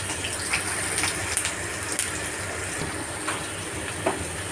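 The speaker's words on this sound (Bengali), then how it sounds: "আলু ভেজে নিচ্ছি।" Potatoes fry in hot oil in a pan with chilli, garlic and panch phoron, a continuous close sizzle with occasional sharper crackles and pops and no talk.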